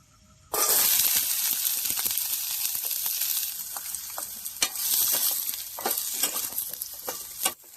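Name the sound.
oil frying in pan for camping chow mein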